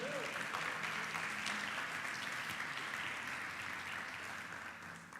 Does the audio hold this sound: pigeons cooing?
no